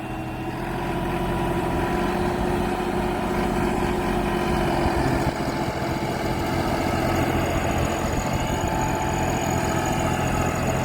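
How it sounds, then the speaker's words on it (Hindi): A New Holland 5620 CRDI tractor engine runs steadily at 1800 rpm in first low gear, eco mode, a loud, continuous low rumble with a constant tone that holds evenly throughout. "इको मोड है, और पहले लो में जो है ट्रैक्टर चल रहा है।"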